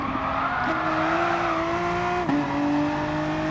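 A VW Supersport race car at the Red Bull Ring braking late, its tyres letting out a sustained loud squeal with a shifting pitch over steady engine and road roar.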